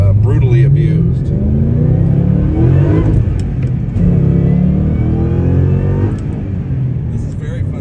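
A supercharged 2006 Mustang GT with a Whipple blower and Borla exhaust revs hard in repeated loud surges, its deep growl rising and falling close by while a person talks over it.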